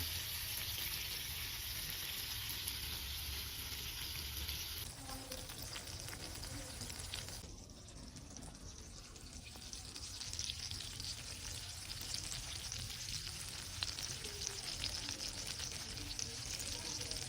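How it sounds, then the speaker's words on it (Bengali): Hilsa paturi, salted hilsa wrapped in gourd leaves, cooking on low heat, giving a steady soft sizzle and bubbling that runs throughout with a brief dip partway, no talk over it. "এটা আমি একটু অল্প জালে হচ্ছে রান্না করতেছি"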